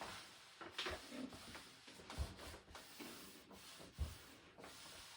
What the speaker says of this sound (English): So just rub it down